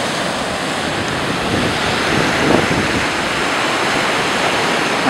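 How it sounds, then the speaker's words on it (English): Ocean surf at Florblanca beach in Santa Teresa, Costa Rica, a steady loud wash of breaking waves mixed with wind buffeting the microphone, swelling slightly midway, with no voices. "Here comes the surf."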